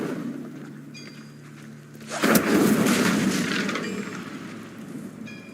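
A fire spell cast in the video game Hogwarts Legacy bursts out as a sudden loud whooshing blast, then a broad roaring rush that lingers and slowly fades over several seconds.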